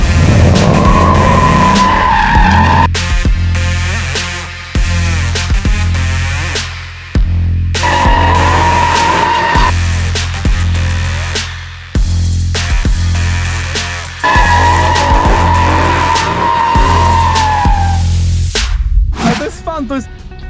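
A car spins donuts in first gear with the wheel at full lock. Its tires skid and squeal loudly in long sweeping bursts over a steady engine roar, with brief breaks between the spins and a voice briefly heard.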